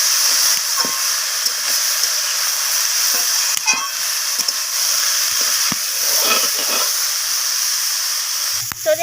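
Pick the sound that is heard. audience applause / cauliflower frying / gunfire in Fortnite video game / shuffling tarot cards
cauliflower frying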